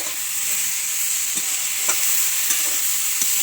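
Spices fry with turmeric powder in a pan for an eggplant and potato dish, giving a loud, even sizzling hiss with faint stirring clicks, close up and without speech.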